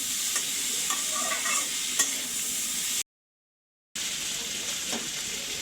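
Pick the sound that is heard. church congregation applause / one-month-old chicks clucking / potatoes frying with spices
potatoes frying with spices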